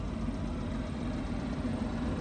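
A Ford Focus with a 1 litre EcoBoost engine and six-speed gearbox idles with a low, even, quiet hum throughout, no talking over it.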